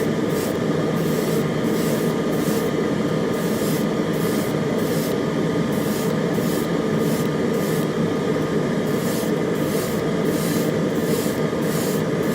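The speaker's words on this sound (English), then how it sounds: "Always spraying past your work and coming back in again." An airbrush sprays Stynylrez primer in a continuous, steady airy hiss throughout, with faint periodic pulsing from the air supply and no talking.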